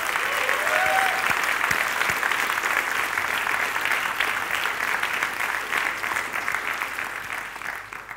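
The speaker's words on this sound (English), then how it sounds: "please give a big round of applause to them" An audience at a tech conference talk claps for the event's volunteers, a full, even wash of many hands that holds strong for several seconds before gradually thinning toward the end.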